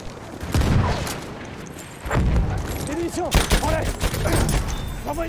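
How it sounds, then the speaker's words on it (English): Gunfire aimed at a bomber in the video game Battlefield 1, rapid automatic bursts and heavy booms from attack plane and Chauchat fire, loud and dense, with a player speaking over the shooting. "Shooting the bomber a bit."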